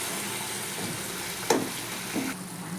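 Jackfruit kofta curry gravy bubbles and simmers in a pan, a soft, steady low sizzle broken by a couple of faint clinks, with no voices.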